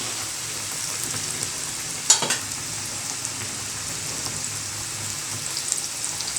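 Chicken broast pieces frying in hot oil, a soft steady bubbling sizzle with one sharp clatter early on and small pops, close up and without speech.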